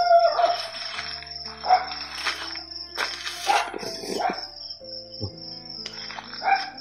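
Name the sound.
dogs playing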